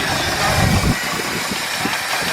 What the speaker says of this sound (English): We can hear the engine.